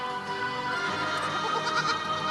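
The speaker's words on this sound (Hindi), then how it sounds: "बकरी का बच्चा" A young goat kid bleats in a steady, wavering cry that fills the whole short stretch, close and fairly loud, with no talk over it.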